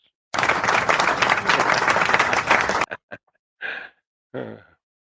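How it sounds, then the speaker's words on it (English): A small group claps in a burst of applause for about two and a half seconds, fairly close, then stops; a few short breaths or sighs follow in the quiet. "We have to give him a little applause."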